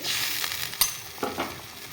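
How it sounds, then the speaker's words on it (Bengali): Rui fish simmering in spiced gravy in a pan for a Bengali posto dish, a steady soft bubbling sizzle with a couple of small utensil touches, close and alone. "তো ঝোলটাকে ফুটিয়ে নিব মাছের সাথে"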